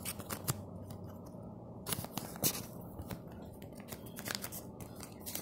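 Scissors snip and crunch through plastic DVD packaging for Species 3, a close series of sharp cuts and scrapes with short pauses, no talking.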